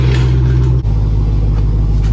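A Dodge Demon's engine runs at a steady idle in a garage, a loud close low rumble with a brief dip partway through.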